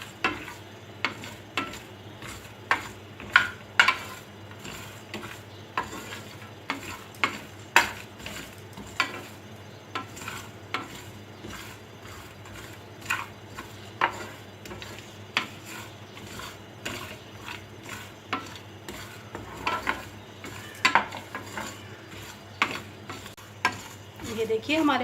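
Spices dry roasting in a pan over low heat for Bihari keema, with repeated scraping and stirring strokes and a faint steady sizzle underneath, close and moderately quiet throughout.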